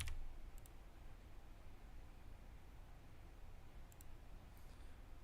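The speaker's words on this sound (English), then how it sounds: "I hit submit, and I'm going to type #Lensface." A computer keyboard and mouse in a quiet room give a few faint, isolated clicks: one near the start and a couple more near the end, with soft background hiss between.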